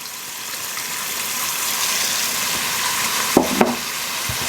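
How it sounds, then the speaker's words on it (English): Fennel and onion sauté in a hot pan for a turkey ragu, giving a steady broadband sizzle throughout, with a couple of short clinks or stirring scrapes near the end. "add my vegetables here, my fennel and my onion, and we're going to give those a saute"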